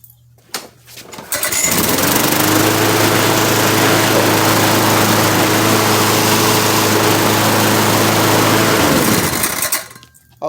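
A small lawn mower engine is driven across concrete. It starts up with a brief sputter, roars loudly and steadily for about seven seconds, then winds down to quiet.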